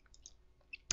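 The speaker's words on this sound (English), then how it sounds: "when I control mouse click" Computer mouse clicks during digital embroidery design software work, a few faint light clicks with a sharper, louder click at the end over quiet room noise.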